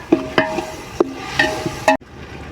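Ginger paste being stirred in a large pot of village-style chicken biryani, with a few distinct scraping strokes spaced about half a second apart and a soft sizzle underneath, close and fairly loud, ending abruptly.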